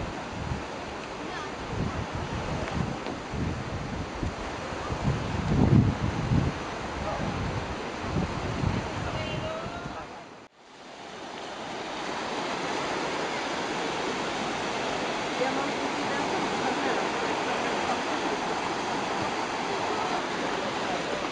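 Sea waves at Sperlonga beach on a holiday, a steady broadband wash of surf and wind rumble, with a brief voice early and a sharp dropout midway before the roar resumes.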